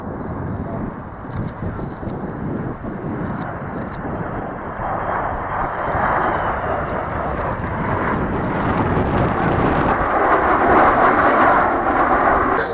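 An Avro Vulcan bomber at the Dunsfold air display, flying with three Folland Gnats, makes a steady broad jet roar that swells louder as it passes, with crowd noise and a voice talking underneath.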